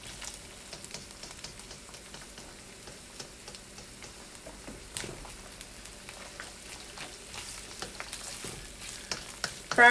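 Onions, garlic and ginger frying in a pan for Chinese-style veggie fried rice, with a steady close crackling sizzle, occasional stirring scrapes and pops throughout, and no talking.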